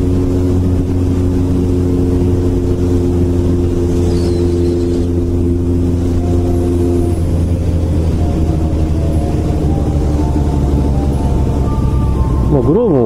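A Kawasaki Zephyr 1100 motorcycle being ridden in cold weather, its engine droning steadily and close throughout, shifting pitch partway as it changes speed, with rushing wind layered over it.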